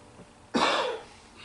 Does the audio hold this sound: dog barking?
no